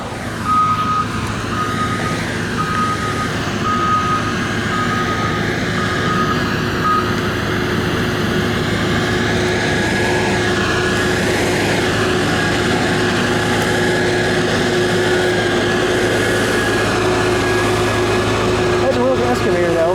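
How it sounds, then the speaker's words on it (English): An excavator works at the old Three Rivers Hospital demolition, a steady loud engine drone with tonal whine and intermittent beeping, continuous throughout with voices faintly underneath. "Excavator though."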